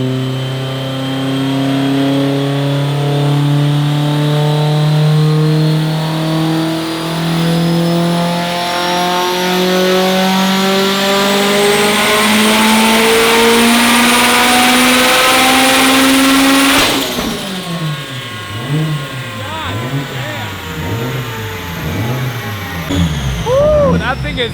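A Subaru STi making over 1100 wheel horsepower revs on a dyno, its engine note rising steadily and very loud to 7,500 RPM over about seventeen seconds, then cutting off and falling away into a wavering idle with popping.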